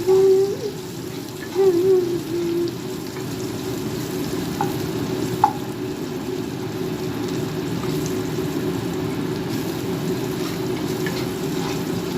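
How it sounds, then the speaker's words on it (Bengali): Bitter gourd fries in hot oil with a continuous close sizzle and hiss, and a few brief tonal sounds in the first seconds. "এদিকে উচ্ছে ভাজা করছি"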